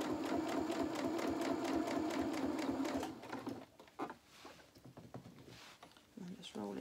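A sewing machine runs steadily while stitching trousers, a loud continuous buzzing for about three and a half seconds, then stops and gives way to quieter handling sounds of fabric being moved.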